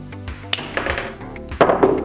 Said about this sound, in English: to get the selector itself out, I'm going to use a punch and a hammer